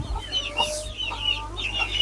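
Silkie and Pekin bantam chickens forage around a coop, giving soft, repeated clucks and little chirpy calls at close range over a steady low background hum.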